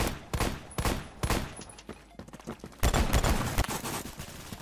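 Rapid rifle fire from a SCAR in the Roblox shooter Phantom Forces, sharp repeated shots in quick bursts with short pauses, loud and close, ending in a sustained volley.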